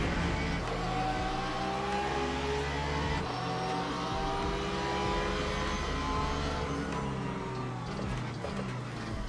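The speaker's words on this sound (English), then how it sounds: "Comes a hypercar again." A hypercar in the Le Mans Ultimate racing game roars past at Imola, its engine note rising and sweeping by with a steady high-revving drone and gear changes, no voices over it.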